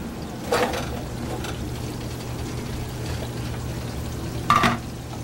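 Mushrooms fry in a pan, giving a steady low sizzle with two short louder bursts of crackle or stirring, close and without talk.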